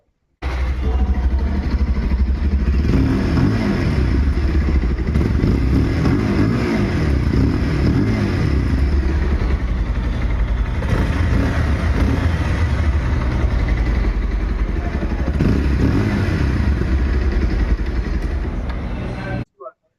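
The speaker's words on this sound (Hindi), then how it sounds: "अब मैं आपको सुनाता हूँ इस बाइक का एग्जॉस्ट नोट" A Bajaj Pulsar motorcycle engine idles and revs with a deep, steady exhaust burble lasting throughout, loud and close, cutting off abruptly at the end.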